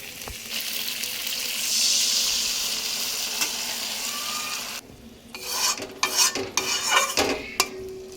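A steady hiss and sizzle as water goes into spices frying in a pan for potol dorma, then scraping and stirring of a spoon against the pan, close and fairly loud.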